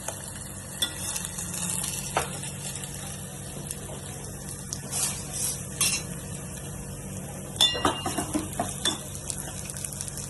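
Masala roasts in a pan for Kolhapuri chicken rassa, giving a soft, steady sizzle and frying crackle while a utensil scrapes and stirs with irregular clinks, louder near the end.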